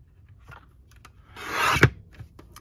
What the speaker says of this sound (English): I think I just want to cut off the bow